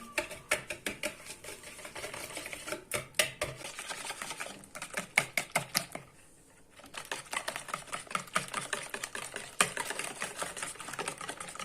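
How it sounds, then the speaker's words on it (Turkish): Eggs and three spoons of sugar are whisked in a bowl with fast, rhythmic clicking strokes, close and crisp, pausing briefly partway before resuming. "Güzelce çırpıyorum bunları"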